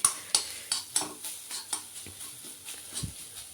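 A spoon clinks and scrapes steadily around a frying pan of sizzling food, roughly three strokes a second, close and clear, with a soft bubbling hiss underneath and no talking.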